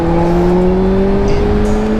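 Steady motorcycle engine drone while riding along a road, a constant close tonal hum with no breaks or talk.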